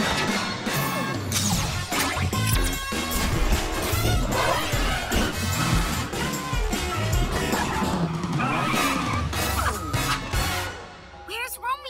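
A cartoon cat car zooming off, loud busy whooshes, tire screeches and crashing effects layered with music, dense and continuous before dropping away near the end.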